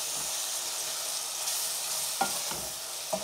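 Raw fish and onion fry in a hot pan, a steady close sizzle with a few scraping stirs of a spatula near the end and no voices.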